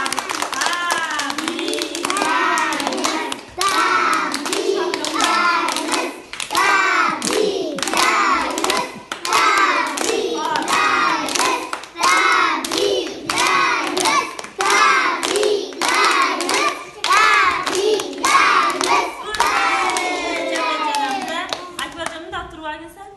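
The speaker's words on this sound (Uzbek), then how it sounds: "Qani hammamiz qarsak chalib Akbarjonni" A group claps hands steadily for a five-year-old child's birthday celebration, a loud, continuous patter of many palms lasting the whole stretch, with short pauses and children's voices faintly mixed in.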